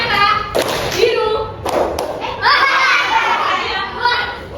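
Schoolchildren at a primary school play a colour clapping game in class, giving a few sharp, loud claps in small bursts amid lively children's voices and chatter.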